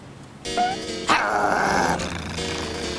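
Dogs bark and growl in a cartoon park scene, a sharp bark followed by a sustained, close, rough growling snarl over faint background music.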